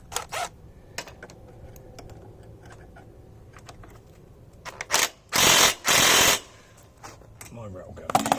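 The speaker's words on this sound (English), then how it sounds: "My rattle gun. Right. Did that just spin?" A rattle gun (impact wrench) spins on the downpipe bolts of a Honda CBF1000 motorcycle in a driveway: quiet clicks and handling, then two loud, harsh bursts of roughly half a second each, close by.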